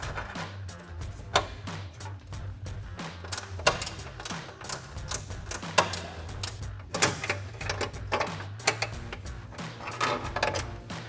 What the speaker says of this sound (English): I'm gonna take a 10mm ratcheting wrench. I'm gonna slide it in here behind the crash bar to get on there.